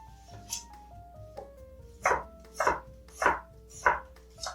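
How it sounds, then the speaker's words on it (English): Onions chopped into small chunks on a cutting board, a series of about eight knife thuds, the first few lighter and the last five louder and evenly spaced, close up, with a faint musical background underneath. "So we're just going to chop these into small chunks here."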